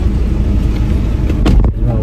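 A jeep engine runs steadily at close range, a continuous low rumble with a short louder surge near the end.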